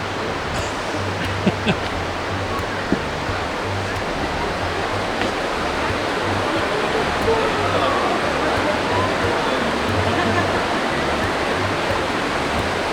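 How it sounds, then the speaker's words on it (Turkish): A mountain stream at a riverside campsite, Serindere, flowing with steady broadband rushing water throughout, with a faint low hum and occasional soft knocks underneath. "Dere yavaş yavaş formunu almaya başladı."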